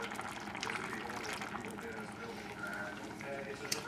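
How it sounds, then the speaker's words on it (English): Half and half cream poured into a pan for a surf and turf risotto with arborio rice, a steady, gentle liquid pour heard up close and fairly quiet. "And I'm going to add the cream. I'm using half and half."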